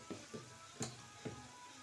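Chopped onion frying in a pan with turmeric and chili powder, a faint steady sizzle with a few soft stirring scrapes at close range.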